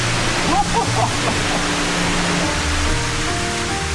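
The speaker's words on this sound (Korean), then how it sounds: "안으로 들어갈수록 점점 커지는 물소리" Steady, broadband rush of a flowing stream along a walking trail in Israel, continuous and fairly loud, with faint voices and low hum mixed underneath.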